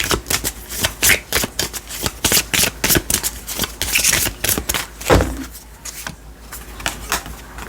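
Tarot cards being shuffled up close, a rapid run of crisp riffling and flicking bursts with brief pauses between them, heard alone without any voices.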